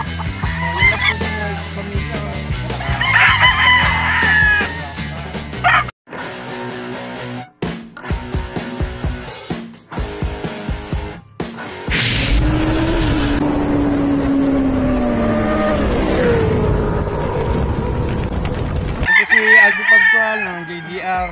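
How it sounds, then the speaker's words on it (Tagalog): Roosters at a gamefowl farm, busy with crowing and clucking birds. The calls come loud and near and keep going the whole time, with short breaks and shifts where other noise passes. "Ganito kalawak yung manukan dito ni Sir Alpi natin"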